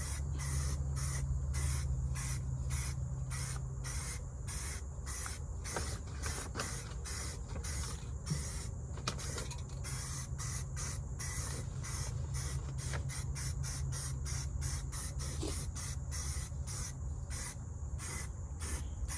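Spray can laying a light coat of primer on a D16 budget build project car, a long run of short rhythmic hissing bursts, close and steady over a low background hum.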